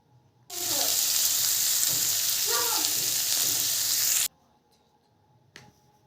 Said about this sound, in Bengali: হলুদ লবণটা দিয়ে আমরা হালকা নাড়াচাড়া করে নিয়ে